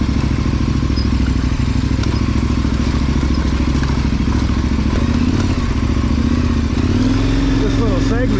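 A KTM 1090 adventure motorcycle rides offroad, its engine droning loud and steady with clattering, thumping bumps from rough terrain, recorded close throughout.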